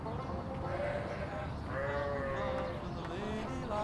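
Sheep bleat several times in wavering, drawn-out calls over a steady farmyard background during shearing, with some calls overlapping.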